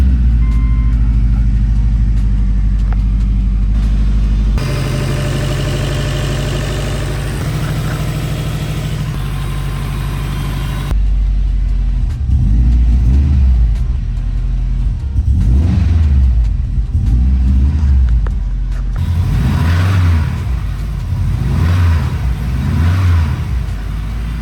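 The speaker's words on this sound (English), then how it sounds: "I started this thing up and it sounds like it's got rod knock" A Subaru Spec B engine idling and revving with a suspected rod knock, running steadily in a shop with rhythmic low pulses, no talk.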